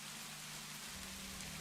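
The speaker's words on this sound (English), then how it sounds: "That rain sounds nice." Steady rain falls in a cozy horror game scene, a soft, even hiss of drops that continues unbroken at low volume.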